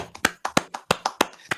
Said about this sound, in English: We can clap it up real quick.